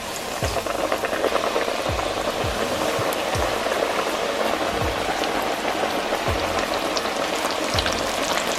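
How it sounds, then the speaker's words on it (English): Steady crackling sizzle of chicken frying in 350°F oil, continuous and fairly loud, with occasional low thumps underneath. "I'm just gonna drop these in our preheated oil of 350 degrees Fahrenheit."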